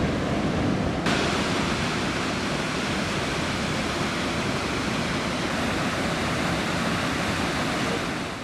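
Brooks Falls in Alaska roars as a loud, steady wall of rushing water, continuous and broadband with no voices, the crash of the cascade filling every moment.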